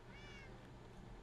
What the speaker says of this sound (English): Oh, there's a kitty.